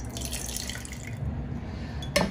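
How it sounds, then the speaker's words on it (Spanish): Water trickles and drips into a glass jam jar holding a boiled egg, a steady pour close by, ending with a small clink. "vamos a colocarle un poquitito de agua"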